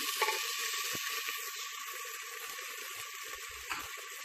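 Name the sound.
stirring ginger garlic and water with a spoon in a clay pot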